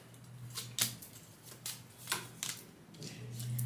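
A deck of tarot cards shuffled by hand in several quick riffling bursts of uneven length, close and fairly quiet, with no talking.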